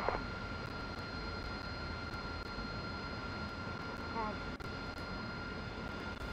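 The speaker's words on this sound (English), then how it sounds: "With the aircraft slowly rolling forward" AV-8B Harrier jet idling and slowly taxiing in a flight simulator, a steady, even engine whine and rumble with a high tonal hum, continuous throughout at moderate level with brief clicks.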